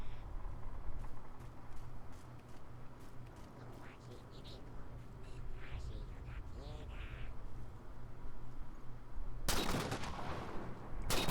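Halo 4 sniper rifle gunfire on a Legendary playthrough, heard as a sharp, loud broadband blast near the end, following a long stretch of steady game ambience and faint effects.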